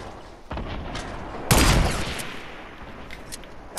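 Gunfire in Fortnite, a faint shot followed by one loud sharp blast that fades into a rumbling tail, with scattered lighter shots after it.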